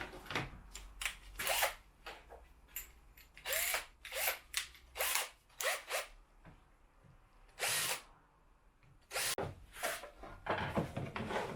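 Power drill boring holes into a homemade pen display stand, several short bursts of whirring stopping and starting in an irregular rhythm, close and loud, with brief quiet gaps between holes.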